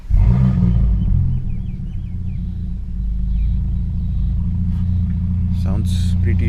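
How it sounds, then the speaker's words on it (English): A straight-piped Audi B9 S5 starts up with a loud rumbling burst, then settles into a deep, steady, throaty idle that continues without break, heard close with no talking. "now let's turn on the car, turn on the ignition"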